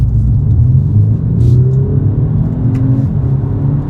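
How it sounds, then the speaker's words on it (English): Steady Audi A5 engine rumble with a rising, throaty induction sound as it accelerates, continuous and close throughout. "See, you get that induction noise"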